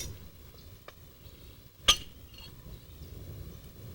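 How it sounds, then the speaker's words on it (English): A novaculite flake breaking off during stone knapping: a single sharp, bright ping rings out once over a quiet background, with a couple of faint ticks before and after. "that was the sound of the flake, that pinging sound"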